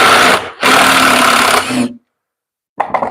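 A power drill drives a screw into wood with two close, loud whirring runs, the first short and the second longer, then a brief final blip after a pause.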